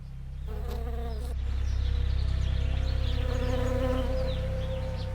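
Dense buzzing of bees pollinating a California almond orchard in spring, a loud continuous drone close by with individual wingbeat whines weaving over it.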